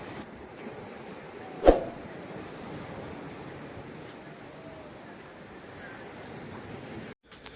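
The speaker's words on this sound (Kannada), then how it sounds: "ಈ ಅಲೆಗಳ ಶಬ್ದ ಕೇಳೋದಿಕ್ಕೆ ಮನ್ಸಿಗೆ ಏನೋ ಆನಂದ" Sea waves washing onto a beach at Panambur, Mangaluru: a soft, continuous surf wash with wind rushing across the microphone and a single brief knock partway through, no voices.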